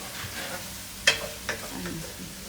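Homemade chili onion paste fries in a pan with a low continuous sizzle, and a couple of sharp stirring scrapes sound near and clear.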